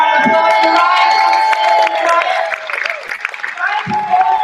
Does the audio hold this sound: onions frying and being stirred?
no